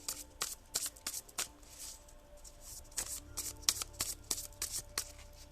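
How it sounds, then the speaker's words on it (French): Oracle cards being shuffled by hand before one is drawn, a quick series of close, crisp riffling flicks and slides, quiet and without talk. "Allez, une carte pour Caribelle"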